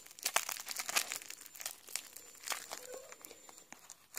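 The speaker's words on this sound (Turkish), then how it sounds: "Hemen son paketimizi açıyoruz." Fingers tear open and crinkle a plastic surprise package holding miniature LOL doll toys, giving close, irregular bursts of crackling and rustling plastic throughout.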